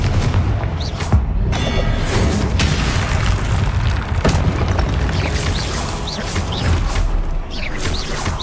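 Confringo fire spell explosions go off in the Hogwarts Legacy game on PS5: booming, crackling blasts and magic effects layered over a dense, loud, continuous combat soundscape with no talking.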